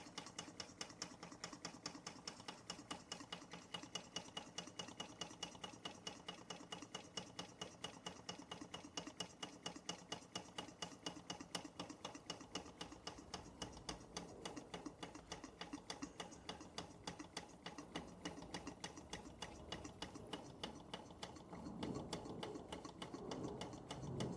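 A Bing 10/110 poppet valve toy steam engine runs on its original burner, giving a steady, rapid mechanical ticking and chuffing that continues evenly throughout at close range, with no talk.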